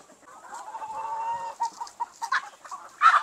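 Heritage-breed chickens in a breeding pen cluck close by, a drawn-out murmuring call giving way to a run of short, sharp clucks, ending in a louder squawk.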